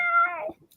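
A cat gives a single short, clear meow, close and fairly loud, with no talking.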